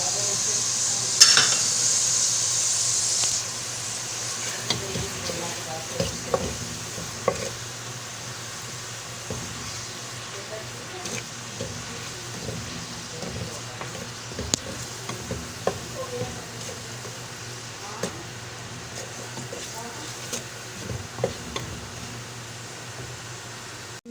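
Garlic, tomatoes and spice masala fry in a pan for dal, a faint, steady low sizzle with occasional soft stirring clinks and no one talking.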